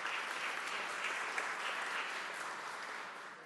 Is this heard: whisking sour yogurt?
no